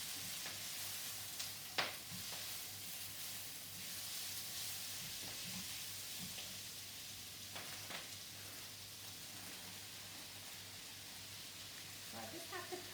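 Ingredients for spring rolls frying in a pan, a quiet continuous sizzle and hiss with occasional faint stirring clicks throughout.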